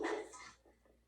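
A dog in a movie scene gives a short bark or yip, loud at first and then fading quickly.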